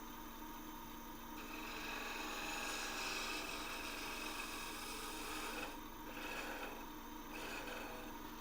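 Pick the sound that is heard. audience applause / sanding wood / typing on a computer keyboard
sanding wood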